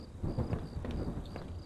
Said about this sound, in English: Sounded like it was going to start raining again.